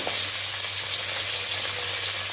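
Green chillies and amla gooseberries fry in hot oil for a pickle, a steady, loud, close sizzle and crackle continuing throughout without speech.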